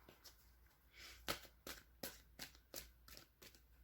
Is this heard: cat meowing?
no